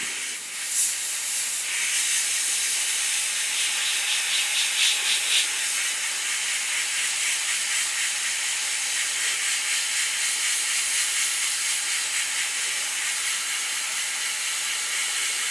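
Airbrush spraying a light dust weathering coat onto the tracks of a 1/35 scale Ryefield T-34/85 tank model, a steady close hiss that runs without a break, with one brief burst of stronger spray early on.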